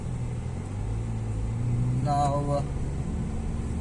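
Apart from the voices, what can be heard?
Hyundai Veloster 1.6 turbo engine accelerating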